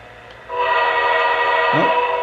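A Lionel toy train's sound-equipped tender gives one sustained, loud whistle blast heard up close, with a chugging, rumbling undertone beneath it.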